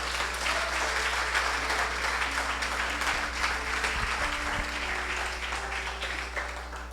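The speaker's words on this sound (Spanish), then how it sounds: "¿Alguien me le podrá dar un aplauso al Señor aquí?" Church congregation applauding together in a steady, dense wash of clapping that fills the whole stretch, with no voices standing out above it.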